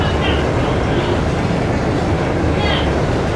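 A speed train in the video game Trails of Cold Steel II rushes past with a loud, steady rumbling roar that fills the whole moment without a break.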